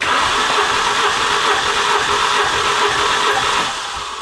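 An engine cranks on the starter in a steady, fast rhythmic churn during a cylinder compression test, close and loud for about four seconds before easing off at the end, with no voices.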